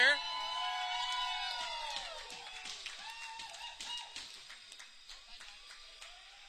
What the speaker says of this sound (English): So they'll have a cheer.